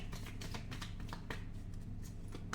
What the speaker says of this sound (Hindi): अभी आपके लिए कार्ड शफल करते हैं